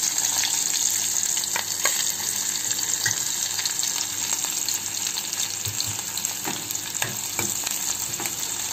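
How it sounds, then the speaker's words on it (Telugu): Onions and green chilies fry in a pan for a cauliflower tomato curry, giving a steady close sizzle throughout with scattered stirring clicks and scrapes; no one speaks. "రెండు కొంచెం వేగాక ఉల్లిపాయలు, మిరపకాయలు వేసుకుందామండి"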